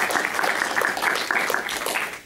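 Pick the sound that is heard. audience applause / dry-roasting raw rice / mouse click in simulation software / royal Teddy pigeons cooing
audience applause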